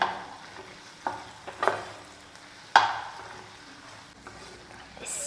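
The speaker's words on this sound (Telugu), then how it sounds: "ఈ టమాటోస్ ఆనియన్స్ ఇవన్నీ దీనికి మంచిగా పట్టేలాగా కలుపుకొని ఒక్క ఫైవ్ మినిట్స్ అలా వదిలేద్దాం" Tomatoes, onions and peanuts are stirred in a frying pan with a few scattered scrapes and soft sizzling. The sound is quiet and intermittent, with gaps between strokes.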